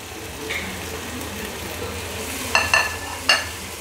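Tomatoes and dried plums frying in a pan for Sindhi biryani, a steady low sizzle with a few sharp stirring clinks near the end, no one speaking.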